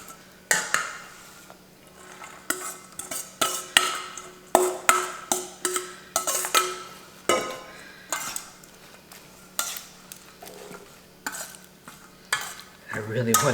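Spicy Asian cabbage coleslaw being tossed and mixed in a bowl, with a steady run of scraping, clinking utensil strokes and rustling, moist crunches, close and moderately loud, with no talking.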